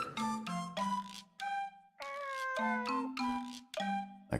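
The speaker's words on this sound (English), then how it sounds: "A cat? There it was, laying across the stone steps, licking and grooming itself." A cat meows over and over, about seven or eight close, clear calls in a quick uneven rhythm, with no one talking.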